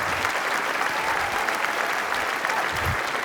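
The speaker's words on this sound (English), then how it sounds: "Let's give a big round of applause for our third place team." A large crowd applauding at an engineering competition awards event, continuous loud and even clapping throughout with no breaks.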